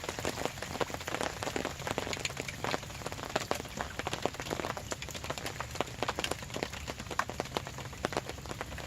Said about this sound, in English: It's not really raining hard.